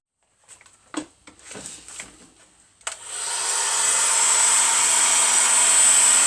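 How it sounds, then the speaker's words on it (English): A few handling clicks and taps on a BSA B33 motorcycle crankcase, then a heat gun switches on and blows a steady, loud, whooshing hot-air roar that holds to the end, close by. "I just put a heat gun on"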